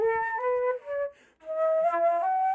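A saxophonist clumsily playing a woodwind such as flute or clarinet, producing two short wavering melodic phrases with a thin, unsteady tone and a brief pause between them.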